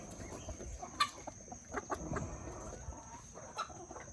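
Chickens cluck softly and intermittently while pecking at greens on a morning farm, with scattered faint calls and light rustling throughout.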